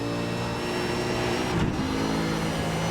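A race car on a circuit with large elevation changes drones with a steady, loud engine note throughout, with a brief dip and pitch shift midway as it passes.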